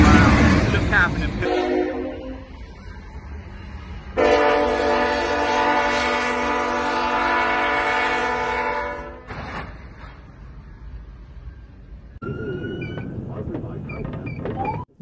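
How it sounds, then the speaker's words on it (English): An approaching locomotive sounds a loud, sustained multi-tone horn for several seconds, then rumbles past with rail noise, and excited voices are heard before and after. "Locomotive headlights rapidly approaching."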